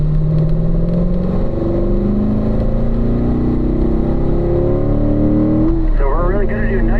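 A Corvette on a race track at Corvette Racing School runs its warm-up lap, the engine note droning steadily and rising in pitch as it accelerates, loud and close from inside the car, with a gear change near the end.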